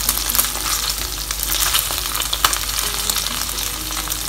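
Garlic chicken pieces frying in hot oil, giving a dense, steady sizzle and crackle with occasional stirring clatter, close up and with no voices.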